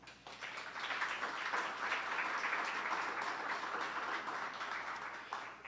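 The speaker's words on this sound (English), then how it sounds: "So please, a round of applause for them." A tech conference audience applauds in a steady, dense wash of clapping that holds evenly for several seconds at moderate distance, with no speech over it.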